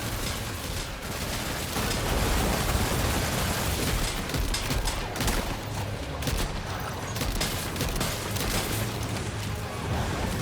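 Dense gunfire and booms from combat in the video game Death Stranding 2, loud, continuous volleys of shots filling the whole stretch.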